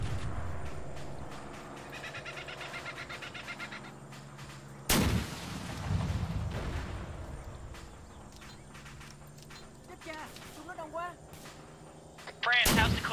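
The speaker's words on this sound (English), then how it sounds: "That's a lot of ordnance going down." Artillery ordnance explodes in the video game Arma 3 during a Vietnam-era mission, with two heavy, booming blasts several seconds apart over a rumbling background and people talking in between.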